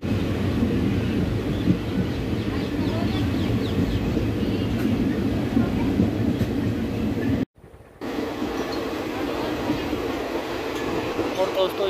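The Shri Ganganagar–Bathinda passenger train rumbles steadily at a Punjab station stop, a continuous low drone with faint clatter, briefly cut off midway, with voices faintly underneath.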